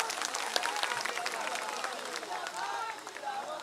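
A crowd claps at a BJP election rally in Mau, a dense patter of hands running under voices and shouting throughout.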